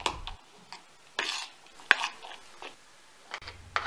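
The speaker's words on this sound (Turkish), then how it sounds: "Kıymış olduğumuz fesleğen yapraklarını beyaz peynirin içerisine ilave ediyoruz. Peynirle birlikte karıştırıyoruz." Chopped basil leaves get stirred into white cheese in a bowl, giving a few quiet, scattered scrapes and soft clicks of a utensil with pauses between.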